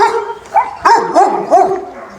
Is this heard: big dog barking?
yes